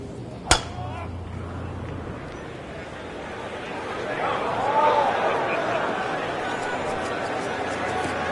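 A golf club strikes the ball off the tee in a video game, a single sharp crack early on followed by a commentator-style voice talking with a faint ambient crowd murmur underneath.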